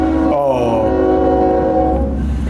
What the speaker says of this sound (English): we got interrupted by the train